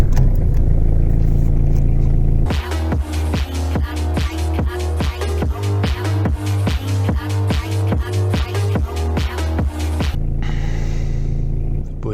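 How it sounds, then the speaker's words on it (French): A car engine starts with a loud rumble and then idles steadily, the engine noise close and continuous, with the car under repair for a broken door. "On va démarrer la voiture histoire de voir ce que ça donne, pour pas bouffer complètement la batterie."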